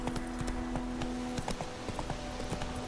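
Roach, a horse in The Witcher 3, trots with steady rhythmic hoof clip-clops, moderately close under a faint low hum.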